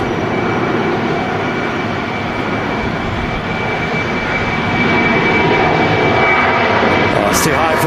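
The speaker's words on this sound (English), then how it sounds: "This aircraft's just gone around, and Logan Air making the moonshot." A Logan Air aircraft going around passes overhead at an airport, its engine roar loud, broad and continuous, building slightly stronger toward the end.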